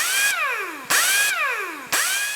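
A high-torque half-inch air impact gun runs free in three trigger pulls, each a loud hissing whine that rises, holds and falls away before the next burst.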